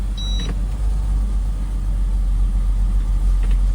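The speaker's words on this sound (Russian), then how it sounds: "Двигатель буквально немного прогрелся, работает в целом тихо" BMW X5 E53 with the M54 engine idling in drive, a steady low rumbling hum heard up close, with a brief faint whine near the start.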